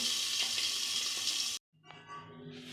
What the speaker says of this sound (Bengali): সর্ষের তেলটা গরম হয়ে গেছে এবার আমি মাছ দেবো কিন্তু খুব ফাটবে